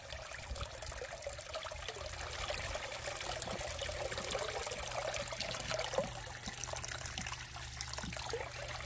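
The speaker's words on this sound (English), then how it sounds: "Use the tailing of the sluice to get us some water in there." Water from the tailing end of a sluice trickles and runs steadily over material being rinsed of organics outdoors, a continuous moderate wash with faint clicks of grit and stones.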